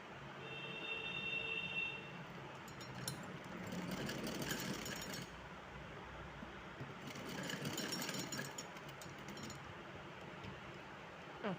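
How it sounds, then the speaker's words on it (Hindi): A sewing machine runs continuously while stitching the side seams of a dress, its steady motor whir rising and falling in loudness across a couple of longer bursts. "चलिए तो पहले मैं इस साइड से सिल लेती हूँ।"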